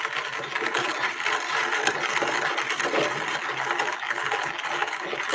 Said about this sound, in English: I hate hand grinding coffee.